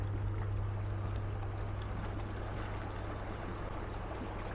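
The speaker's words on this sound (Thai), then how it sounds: "นิ่งสนิทมีแต่ลมกับคลื่นเท่านั้นนะครับ" Steady wind and lapping waves on an open reservoir at a dam lakeside fishing spot, a continuous broadband wash with a low rumble, constant and fairly close throughout.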